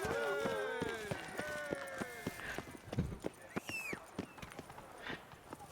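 A horse gallops in The Witcher 3, its hooves clip-clopping in a quick, steady rhythm while a voice talks over the opening seconds and a brief whinny rises near the end.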